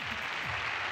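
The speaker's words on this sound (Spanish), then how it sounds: "Un aplauso para él" A talk-show studio audience applauds in a brief, dense burst of clapping filling the whole second.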